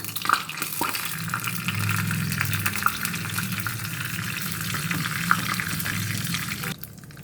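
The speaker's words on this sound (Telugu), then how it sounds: "పోపు గింజలు వేస్తున్నాను." Steady crackling sizzle of seeds hitting hot oil, continuous and fairly loud, with a few sharper pops, cutting off abruptly near the end.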